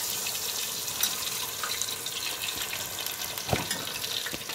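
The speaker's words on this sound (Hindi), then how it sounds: "फिश हो रही है फ्राई" Masala fish sizzling in a pan gives a steady, soft hiss and crackle throughout, with a faint clink near the end.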